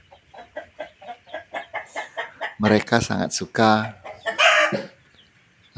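Chickens cluck in a steady rhythmic series up close beside a dust-bathing hole, then a louder burst of squawking calls, with a voice speaking briefly among them.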